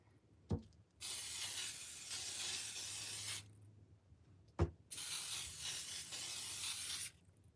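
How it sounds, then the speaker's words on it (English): Two long bursts of hissing aerosol spray glue, each a few seconds long, each preceded by a sharp click, with quiet pauses between. "So I'm just going to spray over the whole thing."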